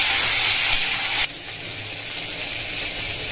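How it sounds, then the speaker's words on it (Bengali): Mixed vegetables for a vegetarian moong dal dish dropped into hot oil, giving a loud, close, continuous hiss and sizzle that settles slightly softer after a second, with no talk. "অল্প করে সব সবজিগুলো একসাথে ভেজে নেব।"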